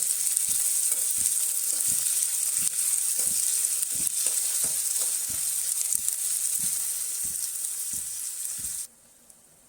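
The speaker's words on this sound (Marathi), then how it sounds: "आता बारीक चिरलेला कांदा घालते. कांदा थोडा जास्तच घ्यायचा आहे. कांदा छान मऊ शिजवून घ्यायचा." Finely chopped onion, a generous amount for an egg curry, sizzles steadily in a hot pan. The loud, constant frying hiss is broken by regular soft knocks of stirring, then drops abruptly near the end.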